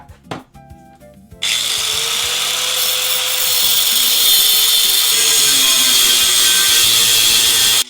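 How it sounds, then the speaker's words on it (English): After a few light clanks, an angle grinder starts up and bites into an e-bike part held in a clamp, producing a loud, steady, high whining rasp that holds for several seconds, up close and with no talk. "We're about to hit it with the grinder"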